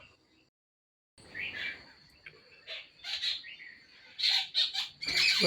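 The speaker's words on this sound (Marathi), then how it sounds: "सर्व पक्षी तिथे चुरमुरे खायला आलेले आहेत" Birds gathering outdoors to eat scattered puffed rice give intermittent chirps and clucking calls, quiet at first and then growing busier and louder toward the end.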